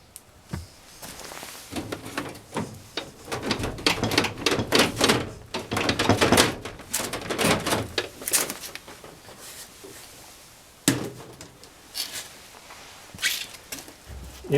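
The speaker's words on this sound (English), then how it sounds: "And also, we'll take the drawer off the bottom." Someone pulls the bottom drawer off a Husky 46-inch mobile steel workbench, and dense metallic rattling, clacks and sliding scrapes build up near and fairly loud before a brief lull and a few final knocks.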